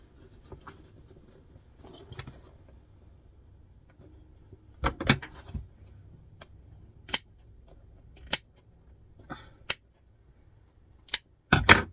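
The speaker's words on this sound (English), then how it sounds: "Some small snips always help." Scissors cut small snips into fabric for a vintage-style doctor's bag handbag, a handful of sharp, close clicks spaced irregularly over quiet room tone, bunching into quick double snips near the end.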